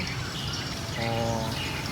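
Birdsong from caged birds relayed through a loudspeaker, a steady mix of chirps and tweets over a constant background hum, moderately loud and continuous, with a brief tonal strand partway through.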